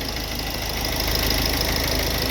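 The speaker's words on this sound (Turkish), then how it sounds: "Soğuk motor biraz sesi kalın çalışır. Yine de size sesini göstereceğim." A cold car engine idles steadily up close, a low, even rumble with a slightly rough, ticking texture and no changes in speed.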